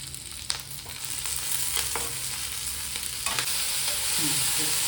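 Paneer, onion and capsicum sizzle steadily in a pan, with scraping stirs and light clatter of the spoon throughout, close and moderately loud with no talking.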